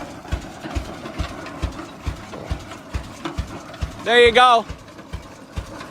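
A 1912 Rumely F vintage tractor engine runs steadily nearby, its low, regular thumping beats continuing throughout, with someone briefly speaking over it near the end.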